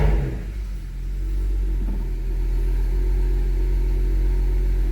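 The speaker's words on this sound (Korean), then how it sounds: "자, 시동을 한번 걸어 보겠습니다." A BMW car engine cranks and catches in one go, then settles into a steady low rumbling idle close by, with no voices over it.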